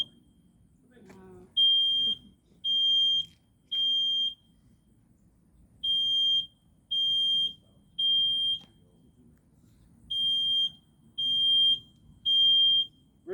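Smoke detector alarm shrieking in repeated long high-pitched bursts, about three per group with pauses between, during a fire training exercise; low rumbling and voices sit underneath.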